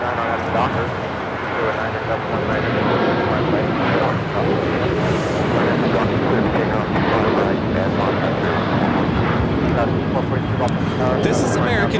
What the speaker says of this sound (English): This is American Airlines 1994 taking off to Phoenix on the 737-800